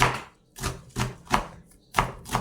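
Knife chopping greens finely on a cutting board in quick bursts of rapid strokes, separated by short pauses, close and clear with no talking.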